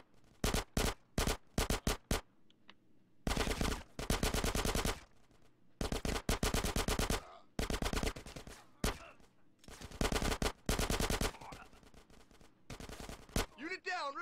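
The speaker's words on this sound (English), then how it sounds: "Get some suppressing fire in there!" Automatic gunfire from Grand Theft Auto San Andreas rattles in several long, loud machine-gun bursts separated by short pauses, with a few quick single shots at the start and faint voices in the background.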